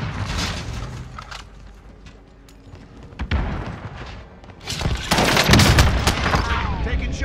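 Video game combat with scattered gunshots and a sharp stun grenade blast, followed later by a dense burst of rapid automatic fire, all loud and close.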